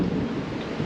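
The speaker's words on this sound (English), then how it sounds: "And yes, that is thunder outside." Thunder rumbles outside during a storm, a dense low roar filling the brief moment at steady loudness with no voices.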